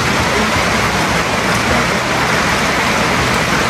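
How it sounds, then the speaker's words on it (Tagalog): A loud, unbroken roar of flooding heavy rain pours down continuously, thick and close, with no talking or pauses. "grabe yung ulan, hindi siya makapunta-punta sa sobrang lakas ng ulan"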